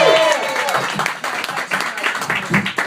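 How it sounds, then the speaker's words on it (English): A comedy club audience applauds as a comedian is brought on stage, a dense burst of clapping that starts loud and carries on steadily under a host's voice. "please get your hands together for a very funny person, Helene Witt, everyone."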